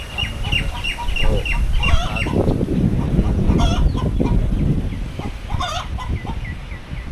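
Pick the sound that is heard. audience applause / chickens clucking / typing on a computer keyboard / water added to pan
chickens clucking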